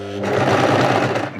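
A sewing machine stitches through a bulky fabric corner of a festive table runner, a short close-up burst of rapid, even motor whirring and needle chatter lasting just over a second.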